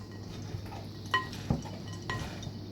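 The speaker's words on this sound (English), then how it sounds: "You're going to give this a mix. Go ahead and mix it around." Cornbread dressing mixture being stirred in a pan: soft scraping and a few light clinks of a spoon against the pan over a faint low sizzle, with no voices.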